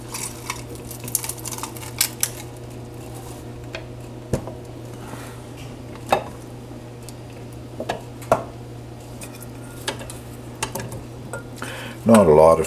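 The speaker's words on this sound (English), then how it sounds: "Now I'm ready to go through the ricer." Boiled turnip and potato pressed through a potato ricer in a home kitchen, with scattered soft clicks and squishes of metal on pot over a steady low hum, ending in a louder clatter.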